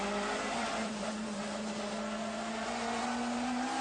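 A 1994 BTCC touring car driven by John Cleland, heard onboard at racing speed, its engine a loud, continuous whine that climbs steadily in pitch as it pulls through the gear, close and dominating with no voices.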